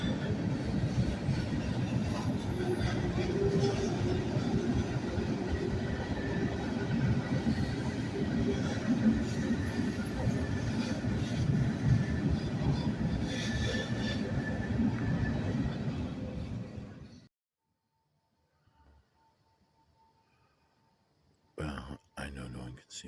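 Freight train passing near a railway bridge in Chippewa Falls, a loud continuous rumble and clatter of wagons for most of the stretch, then cutting to near silence before a brief burst of noise at the end.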